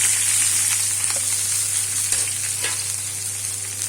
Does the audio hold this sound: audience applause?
no